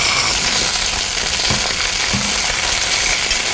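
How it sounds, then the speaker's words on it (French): Liver searing in olive oil in a hot pan, a steady loud sizzle and crackle throughout with no voices. "le foie, on va le saisir de chaque côté 1 minute pour qu'il soit bien doré et rosé à l'intérieur"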